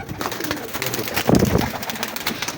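Ferozpuri pigeons coo at close range, producing soft, throaty, repeated calls over faint background noise, with one fuller coo rising near the middle.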